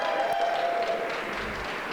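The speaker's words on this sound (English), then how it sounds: "Let's give him a round of applause." A conference audience gives a round of applause, a dense continuous patter of many hands clapping that holds steady and fades slightly toward the end.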